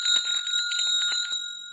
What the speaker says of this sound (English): He rang the bell,